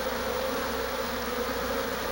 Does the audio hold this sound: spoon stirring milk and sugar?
no